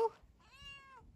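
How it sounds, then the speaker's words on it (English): A wild cat on a flower farm gives a single drawn-out meow, clear and fairly close, preceded by a short chirp, with faint background noise and no talking. "Another wild kitty to feed?"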